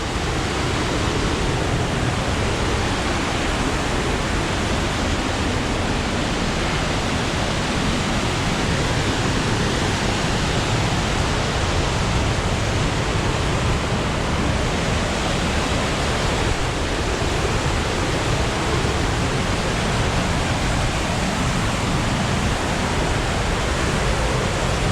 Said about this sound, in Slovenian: Zdaj se je to bolj slabo slišalo, ker je reka dosti glasna.